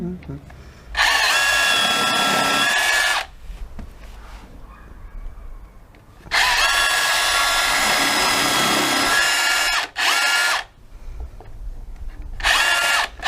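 A DeWalt DCH274 SDS hammer drill drills a hole in three loud bursts, a harsh buzzing roar that cuts out abruptly between runs, with quieter handling noise and murmured talk in the gaps.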